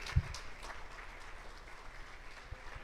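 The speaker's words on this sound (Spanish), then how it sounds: "¿Cuántos le damos un fuerte aplauso al Señor?" A church congregation claps in steady, fairly faint applause, a soft continuous patter of many hands with no talking.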